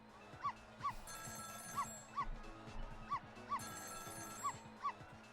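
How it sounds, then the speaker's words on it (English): Telephone ringing in the next-door apartment in the video game Ghost Trick, a repeated ring over a looping game music bed, moderately loud and steady in rhythm. "It was the sound of a telephone ringing, coming from the apartment next door."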